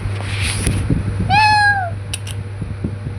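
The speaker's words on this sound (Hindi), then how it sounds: "ये बिल्ली जो है मौसी के यहाँ रोज़ आती है" A cat gives a single clear, drawn-out meow close by, over a steady background hum.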